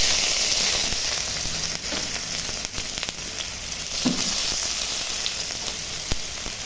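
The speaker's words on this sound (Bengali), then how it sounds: "একটু জিরাটা ভাজা ভাজা হয়ে গেলে আমি এখন পেঁয়াজ দিয়ে দিচ্ছি" Onions fry in a kadai of hot oil with white cumin, giving a continuous close sizzle with a few soft stirring knocks and crackles mixed in.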